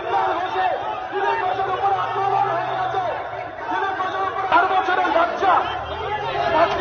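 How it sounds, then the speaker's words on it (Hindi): Crowd shouting slogans during a tense political confrontation around the Bhabanipur election, a steady, fairly loud mass of overlapping voices and chanting with scattered louder outbursts, heard from within the throng. "सुन लेते हैं वहां पर जो भीड़ क्या नारे लगा रही है"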